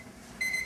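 A laboratory timer sounds one short, high electronic beep that starts abruptly after a moment of quiet room tone and stays faint.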